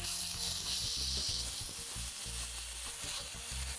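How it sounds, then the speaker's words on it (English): A smashburger patty cooking in a pan gives a loud, close, steady hiss of sizzling fat over a low pulsing hum, with no talking. "I'm gonna cook it until I start to see a little bit of like the pink stuff on the top."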